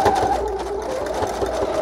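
A sewing machine stitches zigzag on a pouch made from magazine pages, giving a steady close-up mechanical whir with a rapid repeating needle rhythm throughout.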